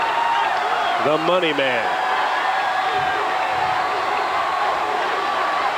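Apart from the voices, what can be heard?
crowd giving a standing ovation at Bulls championship celebration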